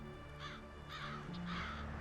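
A crow caws three times in a row, faint and somewhat distant over a steady background hum.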